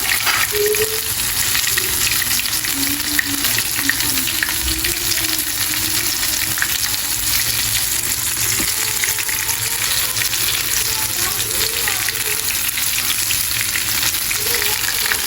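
Masala-coated chicken wings fry steadily in a pan with a constant, close hiss and crackle that runs unbroken through the whole stretch, and nobody speaks.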